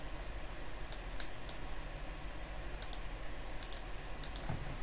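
Sharp, isolated mouse clicks, single and in quick pairs, sound close and crisp over a faint steady hum with no talking.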